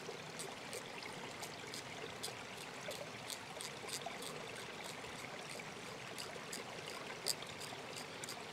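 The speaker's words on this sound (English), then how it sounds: "And we got a nice flow of water over here." A small brook-side stream of water flows steadily at a trout cleaning spot outdoors, a continuous soft trickling wash with faint repeated high ticks throughout and no talking.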